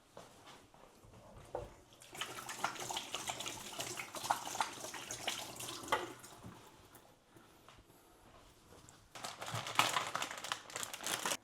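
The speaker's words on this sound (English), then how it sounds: "Now, before you do any touching the food, remember to wash your hands." Tap water runs into a kitchen sink while hands are washed before handling lasagna mince, with steady rushing and splashing in two stretches, fairly close, broken by a quieter pause.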